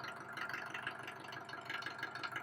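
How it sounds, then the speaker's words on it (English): A Mercedes-Benz 190D 2.2 W201 diesel engine with the exhaust removed idles steadily with a low, rough, continuous rumble and no other sounds. "Car was idling non-stop, entire time during recording"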